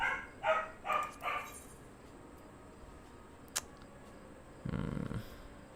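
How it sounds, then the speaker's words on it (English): A dog barks three or four times in quick succession at the start, moderately close, then goes quiet over faint room noise before a brief muffled rustle near the end. "Moment I start streaming, gotta start barking."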